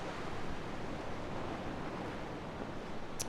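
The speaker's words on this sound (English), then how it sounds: "I love these water sounds so much." Steady rushing water in The Witness video game, a broad continuous wash like surf or a waterfall, even and fairly loud throughout with no voices.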